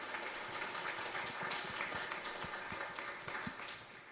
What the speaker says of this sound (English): Let's have a round of applause for our expert on teaching music to carpenters.